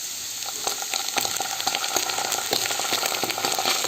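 Ginger garlic paste hits hot oil in a frying pan and sizzles with a steady, close crackle and spatter throughout, with no talking.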